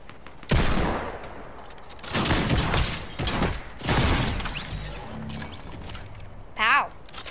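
Video game gunfire with a few loud, separate sniper shotgun blasts spaced over several seconds, each with a sharp crack and brief mechanical rattle, plus faint clicks between shots.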